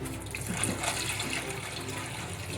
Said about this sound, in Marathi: असे 3-4 पाण्याने स्वच्छ धुवून घ्यायचे, त्यामुळे स्टार्च असते ना ती गेली पाहिजे।